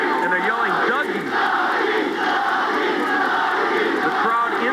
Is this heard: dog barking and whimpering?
no